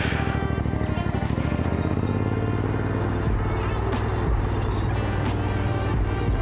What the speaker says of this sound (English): there is a lot of traffic here